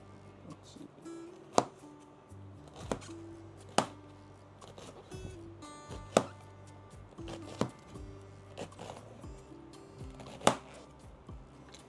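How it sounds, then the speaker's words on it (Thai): A knife strikes a cutting board in sharp, irregular chops while finely shredding cabbage by hand, a dozen or so spaced over several seconds, with faint scraping between strokes. "อันนี้นะครับก็จะเป็นตัวกระหล่ำที่เราซอยด้วยมือเมื่อกี้นะทุกคน"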